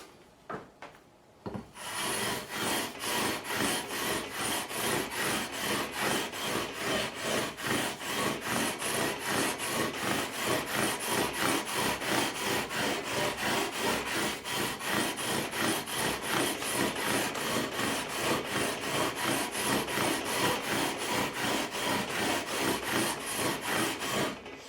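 Continuous close scratchy rubbing of 400 grit sandpaper worked back and forth over the refinished body of an Edwards ESP Japan E-EX-125D Explorer guitar, a steady rhythmic rasp lasting throughout with no talk.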